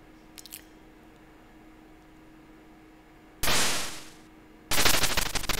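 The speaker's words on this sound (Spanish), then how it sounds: "a este también lo vamos a pegar un par de tiros" Two loud bursts of rapid video game gunfire from Tusker on the ZX Spectrum, each lasting about a second, separated by a pause, with a brief faint crackle at the start.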